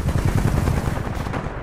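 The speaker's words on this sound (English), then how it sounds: "I keep getting shot in the back." Rapid machine-gun fire in the video game Titanfall 2, a dense continuous burst of loud close shots with no pauses.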